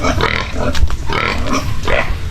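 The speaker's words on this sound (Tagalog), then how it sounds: "Inahining baboy." A sow grunts close up, several loud, rough snorting grunts in quick succession.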